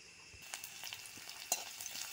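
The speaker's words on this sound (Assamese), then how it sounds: "এয়া কুটি ৰখা নহৰু আৰু নৰসিংহৰ পাতকেইটা সুন্দৰকৈ ভাজি ল'ম।" Steady crackling sizzle of chopped garlic and curry leaves frying in hot oil, with a few sharper pops and spatters scattered through.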